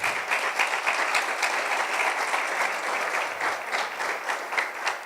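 A church congregation gives sustained, steady applause during an evening Spanish-language service, dense rapid clapping from many hands filling the room at an even level throughout.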